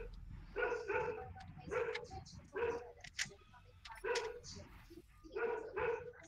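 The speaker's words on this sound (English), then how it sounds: "What is your dog bark at night?" A dog barks repeatedly in steady bursts, several loud barks spaced about a second apart, heard during Evolve Stage 2 gameplay with faint game sounds underneath.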